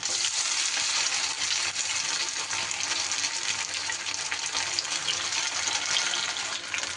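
Cornflour-coated stuffed pointed gourd frying in hot oil, a steady dense hiss and crackle that holds at an even level throughout, near and loud, without speech.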